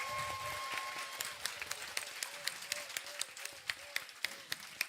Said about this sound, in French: Est-ce que tout le monde peut faire un tonnerre d'applaudissements?